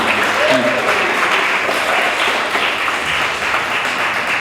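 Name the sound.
audience applause at a youth summit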